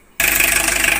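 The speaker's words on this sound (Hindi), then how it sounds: "हमारे गाड़ी का जो इंजन है वो बिल्कुल चालू हो गया है" A car engine with a vibration problem starts abruptly after a moment of quiet and settles into a loud, steady idle with a faint pulsing throb.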